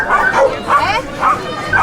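A small puppy gives high, repeated yips and little whimpering barks in a steady rhythm, close and clear, with people talking over it.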